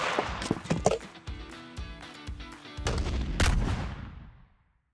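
A homemade shotgun axe fires outdoors, sharp loud blasts with a couple of booming reports, the last one heavy and ringing out before fading into quiet.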